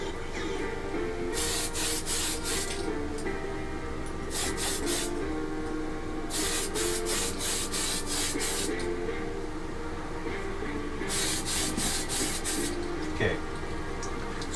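Bursts of a spray can or airbrush hiss in short repeated passes while a PL-01 prototype model tank hull is painted, each burst lasting a second or two between quieter pauses, close and fairly soft over a steady background hum.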